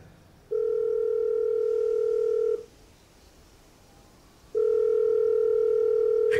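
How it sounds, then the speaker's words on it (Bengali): A telephone line rings after dialing, giving two long, steady electronic ringback tones separated by a pause of about two seconds. The tones are clear and close, with no talking. "ফোনটা প্রায় মুখের উপরেই কেটে দিয়ে আমি নাম্বারটা ডায়াল করলাম"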